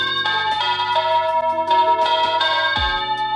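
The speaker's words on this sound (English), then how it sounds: "We have replaced our old door chime with the new upgraded wired or wireless chime." A newly installed wired doorbell chime rings through its test, a bright sustained sequence of bell tones, loud and close with long overlapping ring-outs and no talking.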